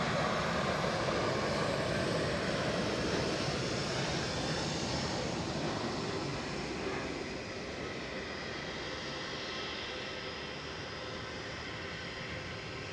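An easyJet airliner passes at Edinburgh Airport with a broad, steady jet roar that slowly fades as it moves away.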